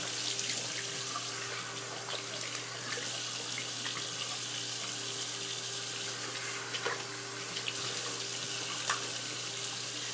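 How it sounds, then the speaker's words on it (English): Tap water runs steadily into a bathroom sink while a face is rinsed after a straight razor shave, a continuous close hiss with light splashing and no talk. "I'm going to just rinse my face off"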